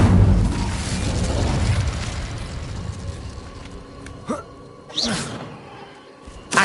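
A fiery Incendio spell blast erupts in the Hogwarts Legacy video game, a loud rumbling boom fading off, followed by a couple of sharp crackling bursts.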